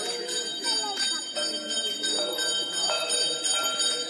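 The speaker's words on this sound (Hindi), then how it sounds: "ये जो मधुर ध्वनि है घंटी की आपके कानों में पड़ती है।" Temple bells at Bageshwar Dham in Chachaura ring over and over with bright metallic strikes that keep overlapping into a steady shimmering wash, heard clearly against the open setting.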